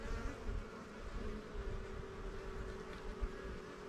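Honeybees on a hive frame give a soft, continuous buzzing drone, faint and close, with a steady hum and no voices.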